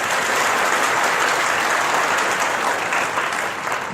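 An audience claps steadily and densely throughout, a continuous wash of applause that stays loud and then eases slightly near the end.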